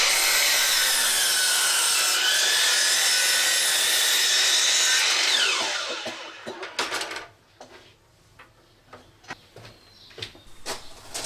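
A power saw cuts 2x10 wooden boards to length outdoors, a loud continuous whine lasting several seconds before it winds down into scattered knocks and handling noises.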